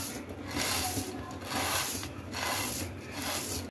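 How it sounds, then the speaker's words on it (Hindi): Crispy fried onions crushed by hand for degi chicken korma, giving close, dry crackling and rustling in four rhythmic waves with no talk. "प्याज को हाथ से क्रश कर लें।"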